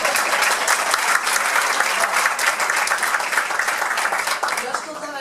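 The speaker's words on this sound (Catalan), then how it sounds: "segur que m'ovacionarà" Loud, sustained applause from an audience at the presentation of La Remençada 2017, steady dense clapping filling the whole stretch and easing slightly at the end.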